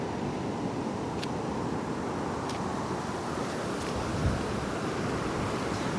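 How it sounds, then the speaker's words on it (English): Large ocean wave breaking on the shore in calm weather with little wind, a steady broad wash of surf with a slight swell in the middle, fairly distant and alone without talk. "Here's a big wave."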